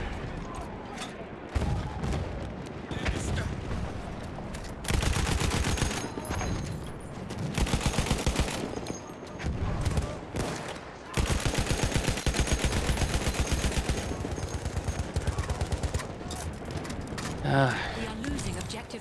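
Sustained gunfire from the Battlefield 1 video game, with volleys and machine-gun bursts rattling almost continuously while a voice talks over the combat.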